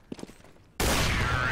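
Gunfire in the video game Counter-Strike: GO erupts suddenly halfway through as a loud, dense, sustained burst after a quiet stretch with faint voices.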